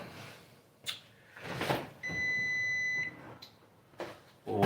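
A kitchen timer gives a single steady electronic beep lasting about a second, amid faint household clatter and brief thumps, with no one speaking over it.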